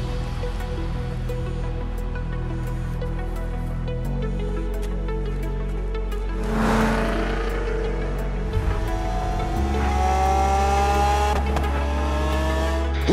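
A steady car engine hums throughout in Forza Horizon 3, rising in pitch as it accelerates, with a brief rushing burst midway.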